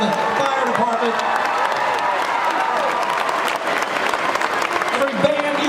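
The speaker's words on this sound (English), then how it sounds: "How about a nice big round of applause for every volunteer wearing orange" A large outdoor crowd at a tornado relief concert claps and cheers loudly for volunteers, a dense continuous roar of applause with whoops and scattered voices throughout.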